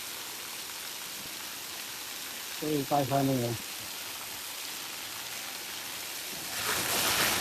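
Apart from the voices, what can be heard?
heavy rain falling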